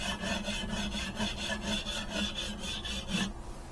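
A whetstone drawn along a scythe blade during sharpening, about a dozen quick rhythmic rasping strokes close to the listener, each a bright scraping swipe, stopping near the end.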